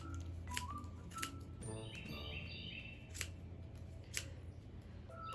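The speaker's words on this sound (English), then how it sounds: "And snip, snip, snip" Scissors snip yarn on a small pom-pom maker in several sharp, close cuts spaced about a second apart, with no voices over a quiet room hum.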